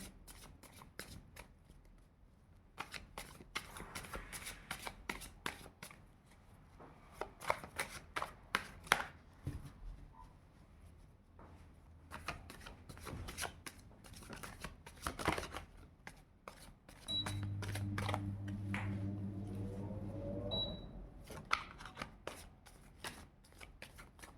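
Tarot cards are shuffled and riffled at close range in repeated quick bursts of papery slaps and flutters, with one longer smooth riffle near the end and no talk.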